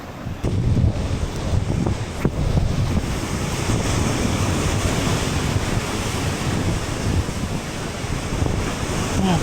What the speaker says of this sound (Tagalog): Parang hangin amihan.